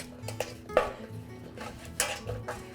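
Seasoned beef tossed with salt and black pepper in a bowl for grillades, giving a few close clinks and knocks of metal against the dish amid soft rustling, with no talking.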